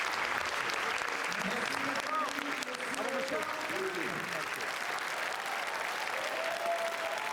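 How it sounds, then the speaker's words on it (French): Steady applause from a large audience at a Cannes Film Festival red carpet, dense and continuous throughout, with a few voices faintly audible beneath the clapping. "Et les applaudissements du public."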